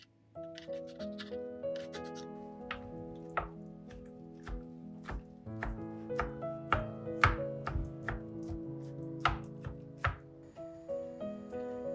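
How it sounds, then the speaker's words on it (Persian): A knife finely chops eggplant on a cutting board, sharp repeated taps in an uneven rhythm over faint background music. "دوباره بادمجون ها رو به خوبی ریز ریز خورد میکنیم"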